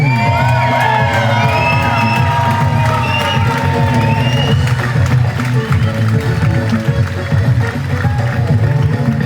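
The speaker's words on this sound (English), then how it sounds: "Round of applause for them." A live audience at a local Dancing with the Stars-style show claps, cheers and whoops loudly and continuously, with shouts rising throughout.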